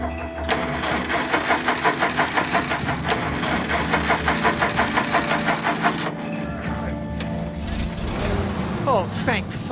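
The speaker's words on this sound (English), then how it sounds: "Stop the engine." A car engine in the video game As Dusk Falls starts with a fast, rhythmic cranking pulse and then settles into a rough, steady idle, close and loud, with game sounds around it.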